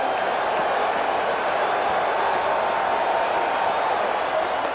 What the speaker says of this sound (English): if you like crowd noise, if it does something to you, you come to the right place and at the right time